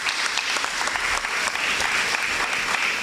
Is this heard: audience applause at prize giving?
yes